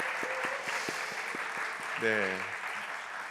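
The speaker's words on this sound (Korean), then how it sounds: "우리 축복의 박수 한번 줄까요?" Congregation applause at a Korean church's Wednesday worship service, a short burst of clapping under a voice as he speaks over it.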